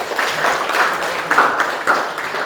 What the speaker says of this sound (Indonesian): kalau sepakat semua kembali kita tandai dengan tepuk tangan yang meriah